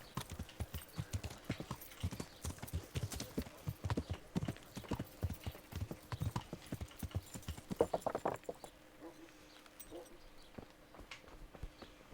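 Horse hooves clip-clop in the medieval video game Kingdom Come Deliverance, a quick, even run of close hoof strikes that slows and fades toward the end, with faint game sounds behind.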